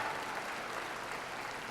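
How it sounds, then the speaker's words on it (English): Applause from the oldest siblings in a live comedy audience, a steady wash of clapping that holds at even strength throughout, with no voice over it. "If you're the oldest sibling in your family, applaud."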